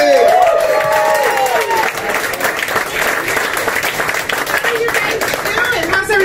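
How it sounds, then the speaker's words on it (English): A crowd applauds loudly and steadily, a dense wash of clapping with some cheering, while a voice speaks over it at the start. "Please, nice big warm welcome for Andrea Caspari."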